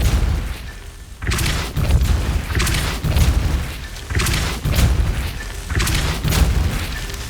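Depulso spell being cast repeatedly in the video game Hogwarts Legacy, a series of loud booming thumps about every second with rushing bursts between them, and no talk.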